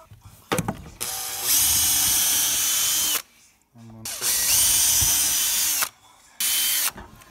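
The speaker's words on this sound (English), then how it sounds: "drill this back through so we know where they're going to be" A power drill bores through a brick mould in three loud, close bursts of steady whine, separated by short pauses with some handling clatter.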